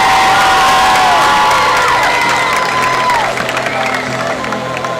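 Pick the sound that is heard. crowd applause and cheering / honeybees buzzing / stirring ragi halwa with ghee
crowd applause and cheering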